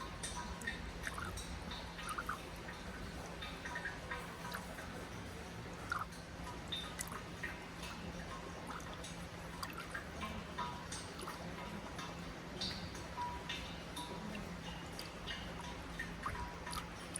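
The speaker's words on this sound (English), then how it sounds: "A drip of water makes a beautiful sound in the ground." Water drips falling into a suikinkutsu, a buried echoing water chamber at Myoshinji temple in Japan, giving faint scattered ticking drips over a steady low hum of background noise.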